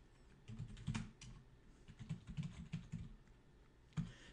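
Computer keyboard typing, someone entering a command during a Telnet lab: irregular bursts of close, crisp keystrokes with short pauses between clusters, no voices.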